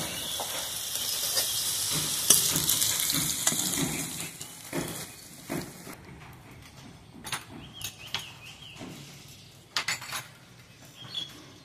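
Potatoes fry in oil with a steady sizzling hiss for several seconds before it thins out, and scattered clinks and scrapes of a utensil against the pan follow.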